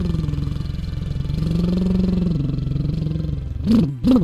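A motorcycle engine idles with a loud, steady throb, then revs sharply twice near the end.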